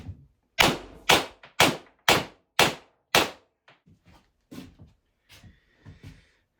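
A less-lethal launcher is primed with six loud, sharp pops in a quick even series, followed by several softer clicks and thumps from close by, with no talking.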